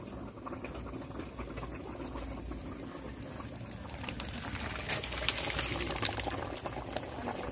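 Fish curry broth bubbles in a pot at a steady rolling boil, a soft continuous burble of popping bubbles heard up close and fairly quiet, with no voices.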